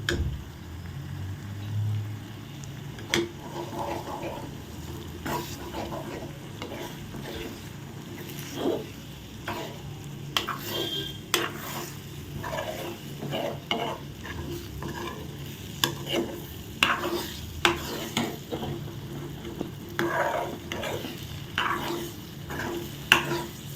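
Beaten eggs frying in a pan on a full flame are stirred steadily, with a soft sizzle underneath and repeated scraping and clinking of the spatula against the pan at an irregular rhythm, close and fairly quiet.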